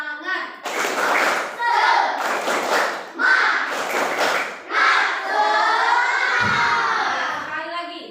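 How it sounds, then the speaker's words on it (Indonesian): A school audience of children performs a rhythmic spirit clap in bursts of patterned clapping mixed with shouted chanting voices, loud and close, ending in a cheer. "Tepuk semangat."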